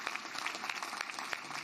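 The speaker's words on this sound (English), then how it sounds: "give this woman another round of applause" Audience applause fills the room at a Summit County GOP Lincoln Day Dinner in Akron, Ohio, a steady wash of many hands clapping with no talk.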